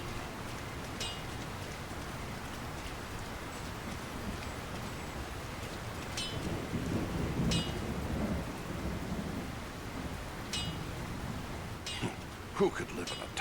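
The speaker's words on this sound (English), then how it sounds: "Who could live in a town where it's always raining?" Steady rain hisses throughout in the video game Lord of the Rings: War in the North while low thunder rumbles, with a few sharp crackles breaking through near the end.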